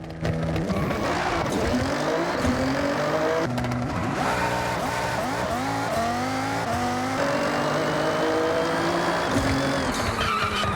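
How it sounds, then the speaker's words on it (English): A 2790 HP Nissan GT-R and a lightweight Mazda Miata launch side by side in a drag race, loud engines revving and climbing through gears with tire squeal, sustained and close. "The GTR launched with the exact same beastly performance, and the Mazda? This time she launched perfectly on the green light"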